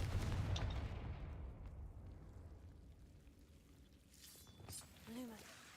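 Confringo blast spell in the Hogwarts Legacy video game, a loud low boom at the start that fades into a long rumbling tail, followed by faint effects and a brief voice.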